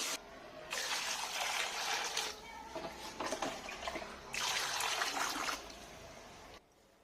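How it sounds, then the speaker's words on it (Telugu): Cut pieces of Godavari koyyanga fish being rinsed in water, with running, splashing water in two sustained bursts and a quieter trickle between them, close by and without speech. "వీటిని చిన్న చిన్న ముక్కలుగా కోసుకుని మళ్ళీ ఒకసారి కడగాలి."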